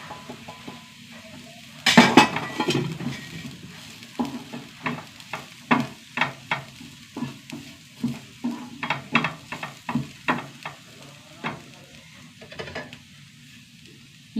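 A spoon scrapes and clinks in a pan as turmeric, chili powder and garam masala are stirred into sautéed onions, giving a rhythmic series of quiet strokes over a faint sizzle.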